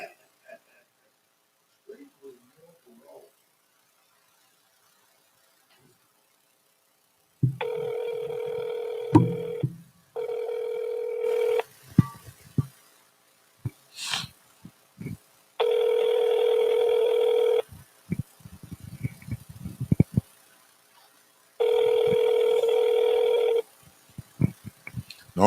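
A telephone rings out repeatedly on an unanswered call: four long, loud ring bursts in a steady on-off pattern, each separated by a short pause, with scattered clicks and faint background noise between the rings.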